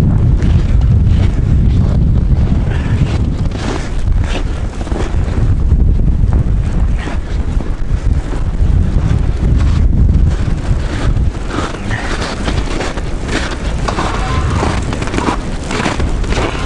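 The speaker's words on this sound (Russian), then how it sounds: "Ветер жесткий." Strong wind in a blizzard in northern Yakutia roars steadily for the whole stretch, buffeting the microphone in loud, rumbling gusts and blowing snow mixed with sand and ice.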